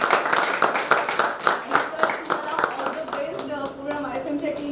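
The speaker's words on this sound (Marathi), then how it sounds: "सो जोरदार टाळ्या एकदा किशोर सर." Applause at a felicitation during a ten-hour continuous singing event, bursts of clapping from a gathered audience mixed with overlapping voices, the clapping thinning out toward the end.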